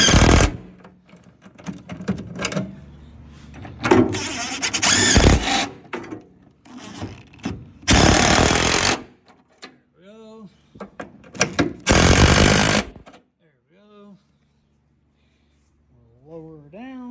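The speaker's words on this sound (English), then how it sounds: "So now we'll tighten the tank straps back up." A power tool tightening the fuel tank straps on a Honda Civic wagon fires in several loud, short bursts separated by pauses, with metallic clinks and squeaky handling noises in between.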